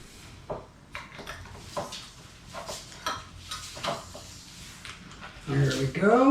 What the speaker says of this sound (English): use your knife like this to help get the last little bit out, put it against the bowl, and just push it out